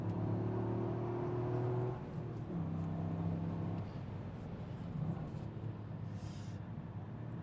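A Toyota GR Yaris engine revving toward high RPM: a rising engine tone breaks off at a gear change and then settles into a rougher, quieter drone, all heard from close by.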